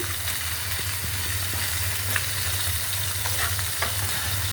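Tomatoes go into a frying pan of hot oil after river fish has been fried, giving a steady close sizzle and crackle with a low rumble underneath and a few light scrapes, with no voices.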